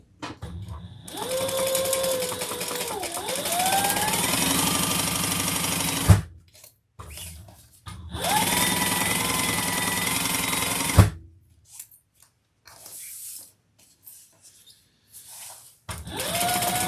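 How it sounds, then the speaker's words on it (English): Sewing machine basting fabric for a hobo-style bag, running loudly and steadily in two long stretches of several seconds each, with quiet gaps and a few short stitch bursts between them. "Then we're going to put the wrong sides together. And baste across the top."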